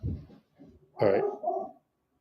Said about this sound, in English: Let's wait for the dogs to start barking.